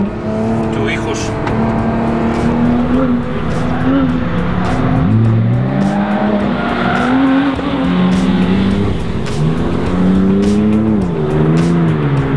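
A Porsche GT3 on a track at a sport driving school revs hard, its engine pitch rising and falling with throttle changes. Tire noise runs underneath, and the sound stays loud and continuous throughout.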